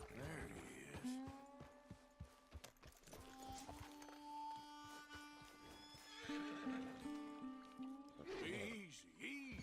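A spooked horse in Red Dead Redemption 2 lets out a long, loud neigh with snorts and clip-clopping hooves, under a rider's calming talk.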